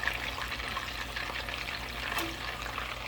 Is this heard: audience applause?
no